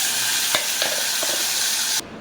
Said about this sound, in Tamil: இப்போ நம்ம தாளிச்சாச்சுங்க.